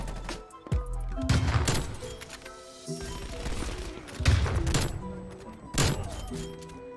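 Sniper rifle shots crack in a video game, several loud reports with booming tails and shattering impacts layered over game music, spaced a second or two apart.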